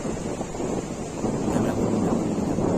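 Steady wind buffets the microphone on the sea shore at Bagda beach (Dublagari), with a continuous rush of waves and surf beneath it, fairly loud and unbroken throughout.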